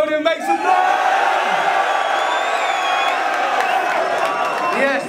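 A packed crowd at a Don't Flop rap battle roars with loud, sustained cheering, whoops and hollering, with shouted voices rising over a continuous wall of noise.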